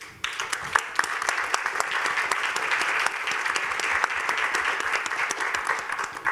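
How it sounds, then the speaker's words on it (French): A concert-hall audience applauds steadily and fairly loudly throughout, dense clapping sustained for several seconds with little talk. "Vous pouvez vous applaudir."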